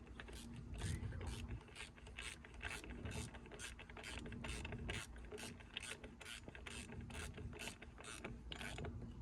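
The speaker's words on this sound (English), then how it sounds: "when you can finally put your ratchet to tightening" Ratchet clicking rapidly and evenly while tightening the thermostat housing bolt on a 1995 BMW E36 318is, a quiet, steady run of sharp mechanical ticks throughout.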